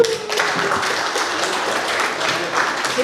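Audience on a talk show with guest Achmad Zulkarnain (Bang Dzoel) breaks into steady, fairly loud clapping, with a few louder individual claps and faint voices mixed in.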